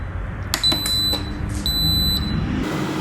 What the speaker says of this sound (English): It's beeped to tell us it's finished.